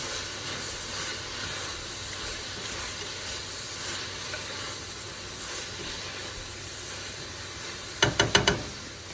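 Ground turkey and cooked vegetables for white bean turkey chili sizzle in a pot as they are mixed together. A steady hiss runs throughout, and a few quick clanks of a spoon scraping the pot come near the end.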